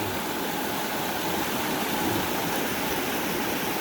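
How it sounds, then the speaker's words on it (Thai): Rushing floodwater, muddy red-brown runoff pouring through rice paddies in the rainy season, makes a steady, loud broadband roar like a stream or small waterfall that continues without a break and has no voices over it. "น้ำไหลแล้ว"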